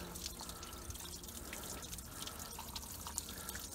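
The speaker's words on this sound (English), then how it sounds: "See all the clear water coming out?" Clear water trickles and drips from a hose on an OMC 140hp 2.5L inboard boat engine during winterizing, a quiet, steady splatter with small irregular drops, and no talking.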